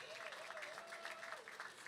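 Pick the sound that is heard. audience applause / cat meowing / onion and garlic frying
audience applause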